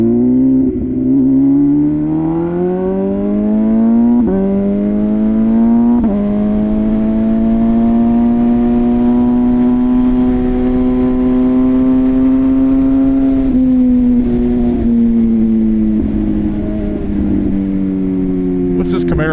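MV Agusta Rush 1000 motorcycle engine pulling hard through the gears with a quick shifter, a loud, steady near rising drone with brief dips at each upshift, continuous for the whole stretch.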